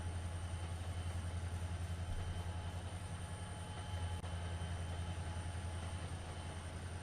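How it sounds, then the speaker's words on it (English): A Trainz Simulator 2 train runs on the Horseshoe Curve with a constant low engine drone and faint rail rumble, steady throughout and without talk. "Look at that train started up."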